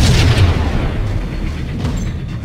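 Grenade explosion in the video game Max Payne: a heavy, loud boom with a deep rumbling low end that decays slowly over a couple of seconds.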